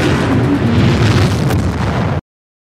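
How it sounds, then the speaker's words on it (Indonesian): A large explosion set off as a diversion in an action film, a loud sustained roar with a dense rumbling low end and a sharp burst near the middle, cutting off abruptly. "tim Wheeler membuat ledakan besar untuk mengalihkan perhatian"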